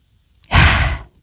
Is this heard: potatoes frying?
no